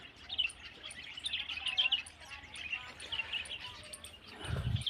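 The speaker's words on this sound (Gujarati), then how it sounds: "જુઓ કેટલા બધા હે ચકલા, કાબેરું" Many sparrows and mynas chirp and tweet in a busy overlapping chorus, high and lively, with a low rumble near the end.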